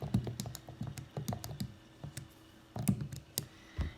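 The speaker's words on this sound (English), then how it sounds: "you type it on your calculator" Calculator keys are tapped in quick clusters of clicky presses with brief pauses between, close and clear with no voice.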